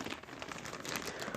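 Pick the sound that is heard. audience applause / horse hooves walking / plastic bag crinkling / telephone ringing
plastic bag crinkling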